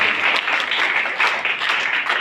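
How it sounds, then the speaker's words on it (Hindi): A room full of people claps loudly and steadily at a college Birsa Jayanti program, a dense, sustained burst of applause with no talking. "बच्चों, इस मोमेंट को आप लोग जोरदार तालियों से स्वागत करें, सेलिब्रेट करें।"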